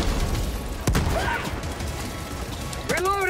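A single sharp grenade blast bursts out amid rattling gunfire in the Helldivers video game, with brief excited voices calling out near the end.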